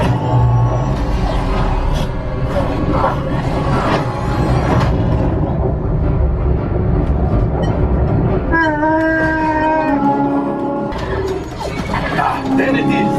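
A train rumbles and clatters through the Smugglers Run flight simulator ride at Disneyland amid dense ride effects and a horn-like tonal wail, while voices talk over the loud, continuous din.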